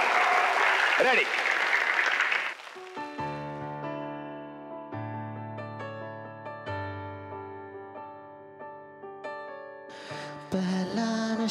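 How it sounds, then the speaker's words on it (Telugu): A studio audience at a celebrity comedy talk show bursts into loud, dense applause for a couple of seconds, then falls quiet as sustained keyboard-like music plays. A second burst of clapping returns at the end, with a voice speaking over it. "ఇప్పుడు ప్రేక్షకులు చప్పట్లు కొట్టవలసిందిగా"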